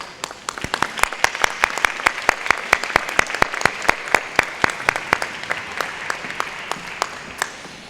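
A crowd claps at an Alpha Alpha Alpha honor society induction ceremony, a fairly loud burst of applause with a few sharp, distinct claps standing out over the dense patter for the whole stretch.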